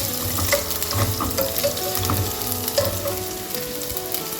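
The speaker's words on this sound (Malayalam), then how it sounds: "വെളിച്ചെണ്ണ ചൂടാവുമ്പോൾ നമുക്ക് സവോള, ഒരു പകുതി സവോള ഞാൻ അരിഞ്ഞു വെച്ചിട്ടുണ്ടായിരുന്നു, അതിട്ട് കൊടുക്കാം." Sliced onion sizzles steadily in hot coconut oil for a chana curry, a dense crackling fry with a few soft stirring knocks, close and continuous with no talking.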